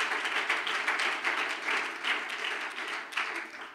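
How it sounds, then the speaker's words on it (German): Applause from a congregation at a Christian gathering, many hands clapping in a steady, moderately loud wash that swells and eases slightly, with no talk over it. "Ein Applaus für Jesus."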